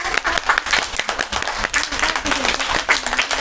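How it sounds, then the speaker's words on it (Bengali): Students at a school assembly clapping hands together in a dense, steady round of applause, close and fairly loud, lasting the whole stretch. "সবাই একটা করতালিতে মাধ্যমে হাততালি দিয়ে শুভেচ্ছা জানায়।"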